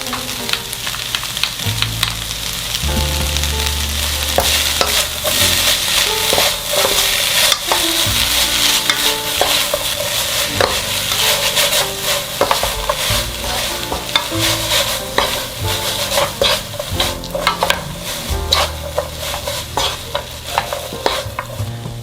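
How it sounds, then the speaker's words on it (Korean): Seasoned dried squid strips with a spoonful of mayonnaise and sesame seeds being stir-fried in a pan on residual heat, with steady close scraping and stirring over a soft sizzle throughout, backed by music. "나머지 열로 한 번 더 볶아주세요."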